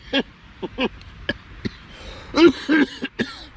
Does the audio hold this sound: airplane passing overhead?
no